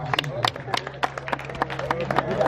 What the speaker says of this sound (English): Please give a big applause to Gustav.